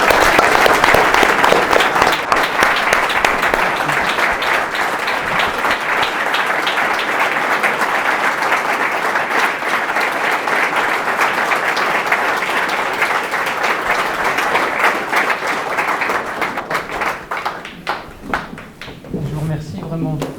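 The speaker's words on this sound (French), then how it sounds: "Nous t'en félicitons et nous t'applaudissons." An audience at an award ceremony for the Ordre national du Mérite gives sustained, loud applause that continues evenly for a long stretch, then thins out and fades toward the end as the clapping winds down.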